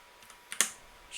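A quick press of the delete key on a computer keyboard: two or three soft, close clicks within a second, with no other sound around them.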